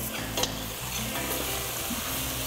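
Flour stirred and lightly toasted in a pan as a roux for cassoulet, giving a steady close sizzle with scraping stir strokes throughout, no talk.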